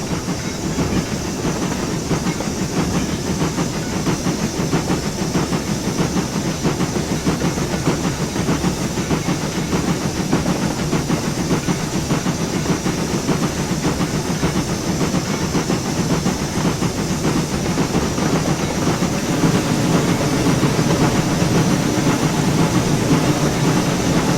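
A simulated train running in a railway simulation game, a loud, steady rumble with rhythmic clickety-clack and hiss continuing throughout, with no talk.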